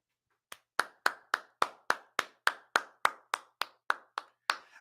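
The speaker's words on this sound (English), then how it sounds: "I want to clap for that" A single person claps their hands about fourteen times at a steady, even pace, each clap crisp and close in an otherwise quiet space.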